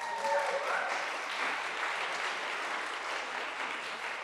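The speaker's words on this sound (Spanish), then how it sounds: "Un aplauso a la pastora." Church congregation applauding the pastor, a steady wash of clapping hands filling the room for several seconds, fairly loud and even throughout with no talk over it.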